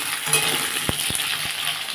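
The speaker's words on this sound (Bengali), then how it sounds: "আলুটা অনেকটাই ভাজা হয়ে গেছে" Potatoes fry in a pan with a steady, close sizzle, broken by a few sharp scrapes of stirring; no one talks.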